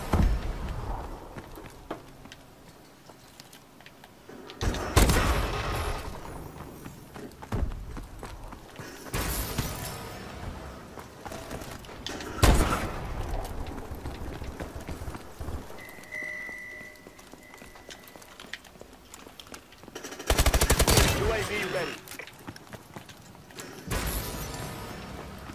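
Gunfire in Call of Duty: Advanced Warfare gameplay: several loud, sharp blasts at irregular intervals, with quieter in-game noise between them.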